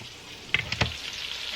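Sausage sizzles in a pot for a jambalaya one-pot meal, a low steady frying hiss with a few sharp spatters and clinks of stirring near the middle.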